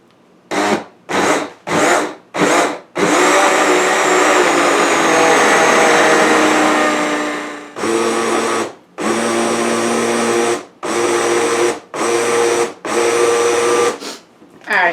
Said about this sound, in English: we're going to go ahead and blend this up